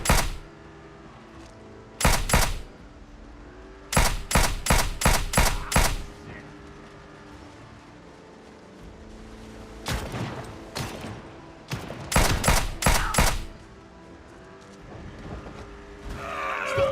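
Gunfire in Project Zomboid from a zombie carrying a gun: several bursts of rapid, sharp shots in clusters of three to six, separated by quieter gaps with faint background hum and a brief noise at the end.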